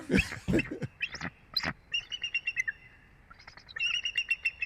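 Small birds chirp loudly near an eagle nest, with sharp sweeping calls at first, then quick repeated tweets in short bursts, close and clear over a quiet background.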